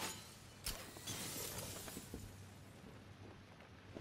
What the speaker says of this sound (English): I just want to break the glass